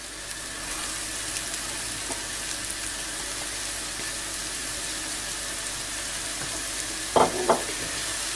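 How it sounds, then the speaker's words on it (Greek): Chopped carrots and zucchini sautéing in a pan give a steady, even sizzle throughout, with a couple of brief clinks of a utensil near the end. "Σοτάρουμε αρκετά καλά."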